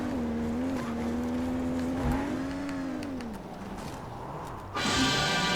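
A vehicle drives in the video game Disney Infinity 3.0, its engine a steady, droning hum that rises and falls in pitch, with a brighter burst of sound near the end.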